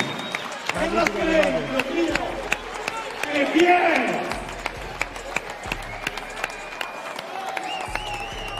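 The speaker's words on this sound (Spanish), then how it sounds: "un aplauso para estos dos campeones porque han hecho un combate digno de la Unión Europea" Crowd at a European Union super featherweight boxing championship bout applauds and cheers the two fighters, a sustained, fairly loud round of clapping with an announcer talking over it.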